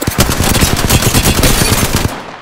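Rapid automatic gunfire from an Apex Legends weapon at close range, a loud continuous burst of sharp shots in fast rhythm lasting about two seconds, with no talking.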